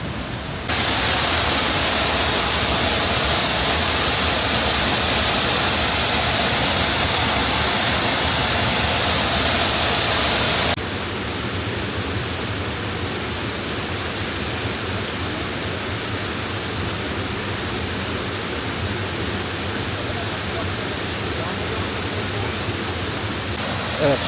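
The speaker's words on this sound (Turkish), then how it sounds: "Şelalenin arkasına gidiyor burası." A waterfall heard from behind the falling water gives a loud, continuous hissing roar that drops somewhat in level partway through and then holds steady, with no talking.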